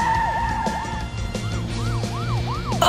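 A police car siren in a children's cartoon wails in repeated rising and falling sweeps, loud and close, with engine rumble and a brief skid underneath.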